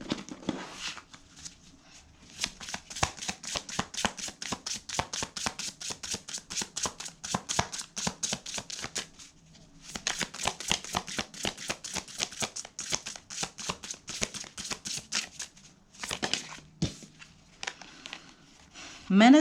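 Tarot cards shuffled by hand in rapid, crisp riffling bursts, several long runs of fluttering clicks separated by brief pauses, close and fairly quiet, with no talking over them.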